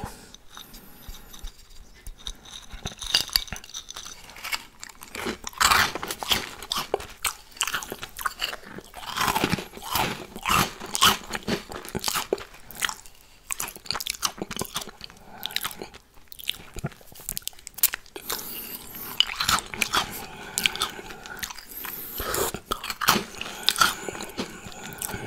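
Loud, close crunching and biting of chopped Biscoff cookies with melted chocolate, licked from a plate, continuing in dense wet bursts of chewing and crackle for the whole stretch with no talk.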